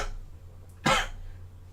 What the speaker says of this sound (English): I have a cough right now.